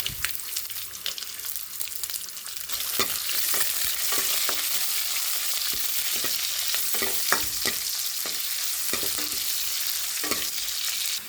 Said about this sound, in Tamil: எண்ணெய் ஊற்றிருக்கேன் எண்ணெய் காஞ்சோடனே கடுகு போட்டுக்கலாம் வெந்தயம் போட்டுக்கலாம் கருவேப்பிலை போட்டுக்கலாம் பூண்டு போட்டுக்கலாம் வெங்காயம் போட்டுக்கலாம்